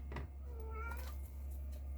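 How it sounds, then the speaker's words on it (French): A domestic cat meows once, a short rising and falling call heard close over a steady low electrical hum, with no talking. "Ben, c'est mon chat."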